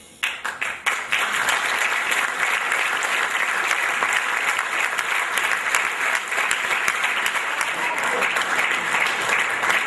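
A TEDx audience in Casablanca breaks into loud, dense applause after a few opening claps, sustained and crowded throughout with no pause.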